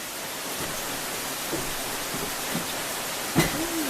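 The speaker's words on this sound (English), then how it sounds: "It's raining." Steady hiss of rain falling throughout during an outdoor barbecue, with a few faint clicks and a brief louder knock near the end.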